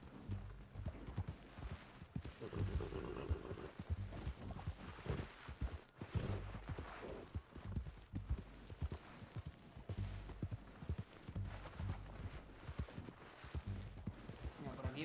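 Horse hooves pounding in the video game Red Dead Redemption 2, a quick rhythmic clip-clop of galloping that runs continuously at moderate level beneath a voice talking over it.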